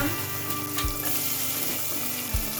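Onions and mustard seeds sautéing with salt in a hot pan for a spicy meatball curry, a steady close sizzle with a few stirring knocks, no talking.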